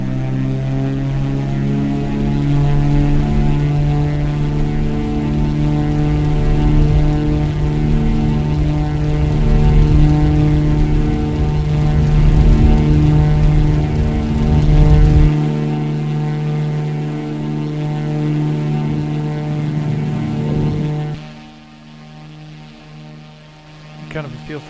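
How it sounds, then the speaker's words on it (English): A propeller airplane engine drones in a flight simulator, a steady loud tonal hum with a pulsing beat that holds for about twenty seconds, then drops in pitch and fades quickly toward quiet. "let me get this plane fired up"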